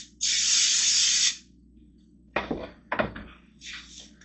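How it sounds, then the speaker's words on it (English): A can of cooking spray hisses onto a bowl in one steady burst lasting about a second, followed by a few quieter clunks and handling knocks in a kitchen setting. "I need to spray a bowl"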